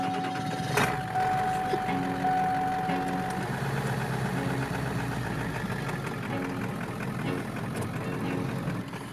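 A van engine runs at a steady, continuous idle for the whole stretch, close and fairly loud, with faint higher tones coming and going above the low engine hum.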